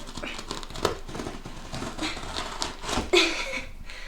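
Crinkling and rustling of a plastic parcel being opened with scissors, soft snips and crackles, close by and continuous, a sharper tear near the end.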